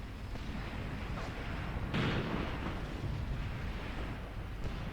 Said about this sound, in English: That was an incendiary hit.